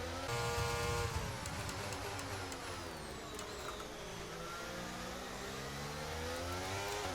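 An F1 car engine in the F1 23 racing game howls at high revs, its pitch falling and rising through downshifts and acceleration, loud and continuous with no voices over it.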